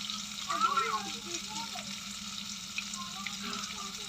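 Catla fish roe fries in a pan, a soft, continuous sizzle with a voice talking over it.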